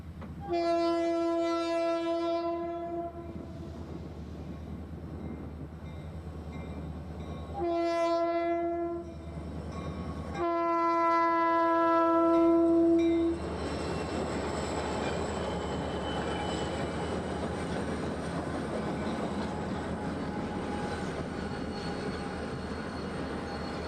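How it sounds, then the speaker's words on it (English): A BNSF train horn blasts several times, long and loud, then the rumble and rattle of passing railcars continue steadily as the westbound mail train passes through Bering near Stevens Pass. "as train number 3 heads west through Bering"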